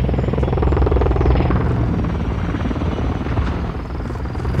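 A helicopter chopper gunner in the video game Call of Duty: the steady, loud rotor thrum and whine drone on throughout without a break, with no one talking.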